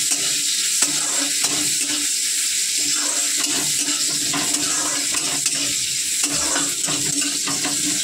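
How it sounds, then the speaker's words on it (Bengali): Bitter gourd frying in oil in a wok (kadai) with black cumin seeds, a loud continuous sizzle broken by repeated scraping and stirring strokes of a spatula against the pan, close up. "উচ্ছেটা ভাজা ভাজা হলো"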